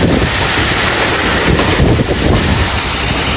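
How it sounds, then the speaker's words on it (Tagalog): Strong typhoon wind buffeting the microphone outdoors, a loud continuous roar with gusting rumble and sea-like wash, no voices heard. "Grabe ang hangin mga kalingap."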